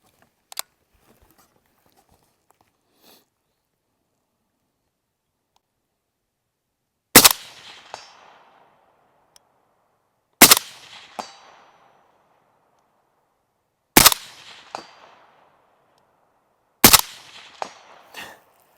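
An AK-74 rifle fired at an outdoor range: four single sharp shots spaced about three seconds apart, each cracking loudly and trailing into a short ringing echo, with near silence between and a few faint clinks before the first shot.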